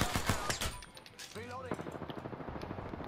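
Gunfire from the Apex Legends video game comes in bursts of rapid automatic shots with a few sharp single cracks, under and between excited voices talking.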